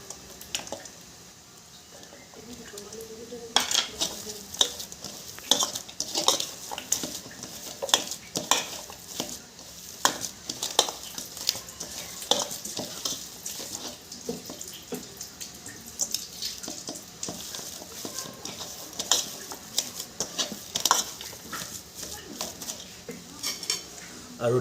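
Onion and hot chili are stirred and fried in a pan for fish kofta, with a soft sizzle under repeated clinks and scrapes of a utensil against the pan.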